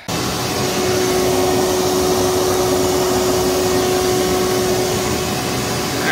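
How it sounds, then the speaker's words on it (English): A vacuum cleaner sucks out a mouse nest from the engine bay of an old Freightliner cabover truck with a Big Cam Cummins engine, left sitting for 25 years. The motor roars steadily and loudly throughout, with a constant whine and no talking. "so I'm going to suck it out with the vacuum the best I can"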